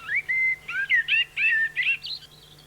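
A La Gomera race of chaffinch sings a bright run of rapid warbling phrases and trills, close and clear, ending in a thin higher note over faint steady background hum.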